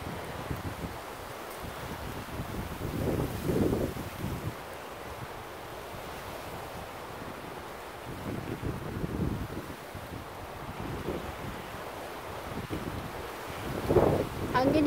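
Strong wind roars by the sea, gusting in surges over a steady rush of surf, with blustery buffeting against the microphone and occasional speech in the background.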